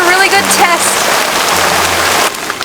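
Heavy hurricane rain lashes down with gusting wind in a dense, steady roar that is close and loud, easing slightly near the end, with faint voice-like murmurs under it.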